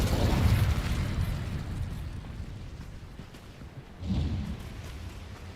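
An Incendio fire spell in Hogwarts Legacy bursts with a loud, booming whoosh, fades into a rumbling tail, and then a second, smaller blast follows a few seconds later.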